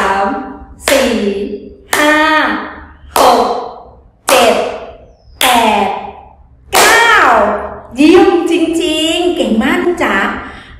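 A child's hands clap out the number nine, about eight or nine evenly spaced claps, each with a voice counting along.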